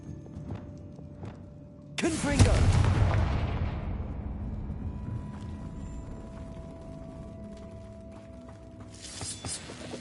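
Bombarda spell blast in Hogwarts Legacy: a single sharp, loud explosion that decays into a long rumbling tail, with faint rhythmic clatter beforehand and another burst near the end.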